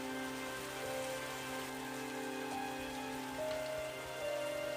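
Steady rain falling on a surface at a street-side food cart in a market, a continuous even patter with faint tonal background music running beneath it.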